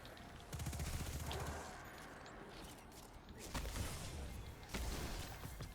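Rapid automatic gunfire in Destiny 2's Pit of Heresy dungeon, bursts of shots rattling on and off with loud peaks, under faint game ambience.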